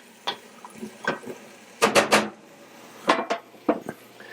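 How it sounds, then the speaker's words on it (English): A spoon scrapes and knocks against a pot as leeks and butter are stirred into potatoes for a Finnish-style salmon soup, in short clattering bursts separated by pauses, close and moderately loud. "Start incorporating the leeks and the butter into the potatoes"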